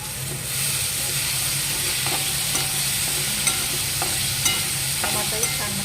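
Onion and tomato fry with curry leaves in a pan, giving a continuous close sizzle and hiss, with a low steady hum beneath it and a few light clinks of a spoon stirring.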